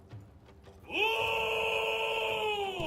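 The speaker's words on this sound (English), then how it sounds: "That is the sound of the unknown gnome cleric as he flies through the air." Gnome cleric in Baldur's Gate 3 letting out a long, loud wailing cry while flying through the air, a sustained high moan that holds steady for about two seconds after a brief quiet lead-in.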